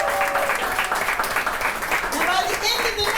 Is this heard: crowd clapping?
yes